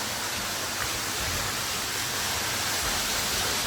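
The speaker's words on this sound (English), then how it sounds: "you can hear the waterfall" A steady, broadband rush of a waterfall heard inside the Lost River Gorge boulder caves, continuous and enveloping, with no voices or breaks.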